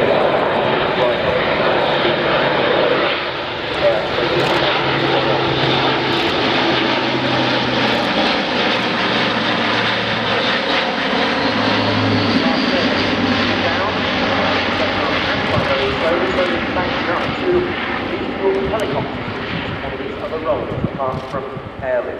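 An Airbus A400M Atlas military transport aircraft drones loudly with its propeller engines at an air show, a constant heavy roar throughout, with someone talking over it.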